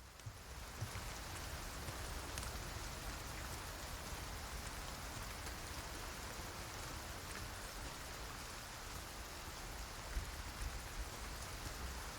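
Steady rain in the video game Resident Evil 4 Remake pours down throughout, a dense, even hiss of drops on surfaces with no voices, loud and constant from start to finish.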